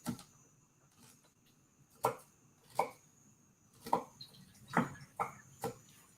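A knife chops bok choy into bite-sized pieces on a cutting board, about eight crisp, separate thuds at an uneven pace, close and fairly quiet with near silence between strokes.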